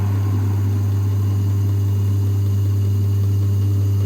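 A Kerry AG lathe runs in gear with a dragging clutch, a steady loud low hum with constant mechanical drone and faint higher whine, unchanging throughout.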